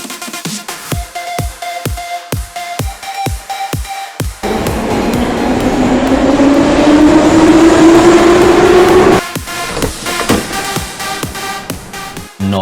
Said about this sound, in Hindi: ये हमारा सिटी सेंटर मेट्रो स्टेशन है नोएडा का